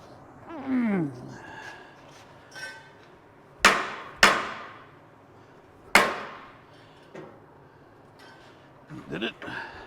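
Three sharp hammer blows strike metal with ringing decays, spaced apart, amid quiet workshop sounds and brief vocal noises.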